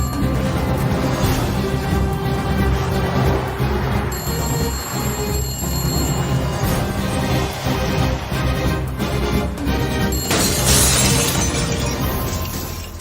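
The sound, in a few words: glass shattering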